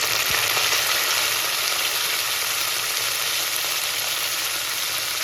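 Curry leaves sizzle steadily in hot oil for milagai killi sambar, a dense continuous frying hiss that stays loud and even throughout with no voices.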